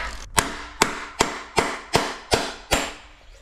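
Seven sharp, evenly spaced knocks of a wooden block striking parts on a Scott Spark carbon mountain bike during a workshop service, each hit loud and close with a short decaying ring, roughly one every 0.4 seconds.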